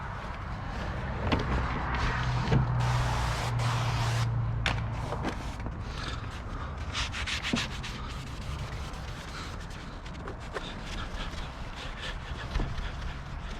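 Steady rubbing and scrubbing strokes wipe down the window glass of a 2011 Ford F-150 truck before tinting, close and continuous with a few light knocks and shuffles, no talking.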